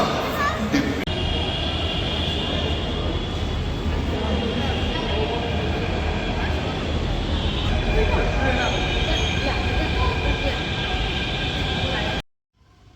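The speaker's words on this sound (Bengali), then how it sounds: "আমরা এখন দাঁড়িয়ে আছি metro station, Jaipur metro station" A Jaipur metro train at the station, a steady loud rumble and hum of the moving carriages that fills the whole stretch before cutting off abruptly near the end, with faint speech mixed in.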